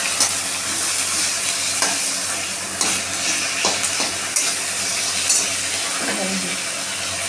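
Tomatoes and green chilies hit a pan of ginger paste for a cabbage chochori, giving a steady close sizzle with occasional stirring clicks and scrapes and no talking.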